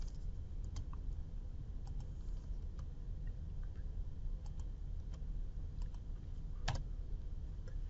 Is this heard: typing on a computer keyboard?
yes